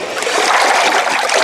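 Water splashing and sloshing during a baptism by immersion at an outdoor baptism service, a steady, fairly loud wash of moving water lasting a moment with no talk over it.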